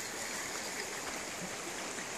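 Cuckoolala Creek flows with a steady, close, broadband rush of water along a lake trail, continuous and even with no voices.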